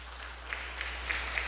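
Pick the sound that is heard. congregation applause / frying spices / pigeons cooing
congregation applause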